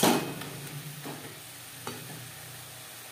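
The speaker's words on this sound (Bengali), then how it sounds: "হাই টু মিডিয়াম ফ্লেমে 3-4 মিনিট নাড়াচাড়া করে নেব" Khesari greens are stirred in a pan over a high-to-medium flame, a loud sizzle at first that eases into a softer hiss, with a few scraping strokes.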